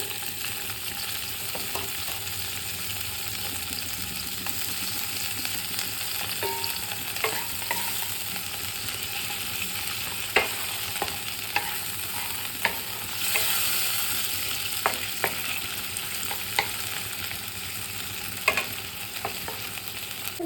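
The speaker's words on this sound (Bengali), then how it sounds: "এই কেটে রাখা পেঁয়াজটা দিয়ে দেব।" Chopped onions fry in fresh oil in a pan for a mushroom dish, a constant dense sizzle with occasional light clicks and scrapes of a spoon stirring, close and without talk.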